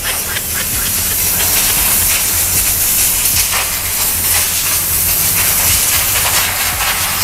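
Steady, loud hiss from a steam sprayer used on a car for a car contest, a continuous broadband spray of steam lasting throughout with no talk over it.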